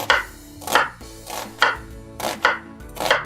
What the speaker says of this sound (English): Cut the onion in half, right? We are going to make some cuts.